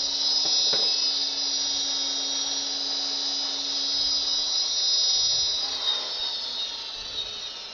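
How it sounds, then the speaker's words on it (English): Sanding a lathe-turned wooden Christmas tree, a steady high whining hiss of the spinning workpiece against abrasive, continuous and fairly close. "We're going to sand it a little bit."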